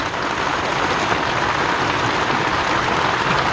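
Rain pours steadily outside, a constant close hiss that holds at the same level throughout without any talking.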